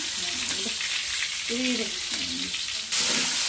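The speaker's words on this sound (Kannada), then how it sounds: "ಅದೇ ಒಗ್ಗರಣೆಗೆ ಸ್ವಲ್ಪ ಕಟ್ ಮಾಡ್ಕೊಂಡಿಟ್ಟಿರೋಂಥ ಈರುಳ್ಳಿ ಹಾಕ್ಕೊತಾ ಇದ್ದಾರೆ" Onions sizzling and crackling in hot oil, a steady frying hiss with some stirring, fairly close.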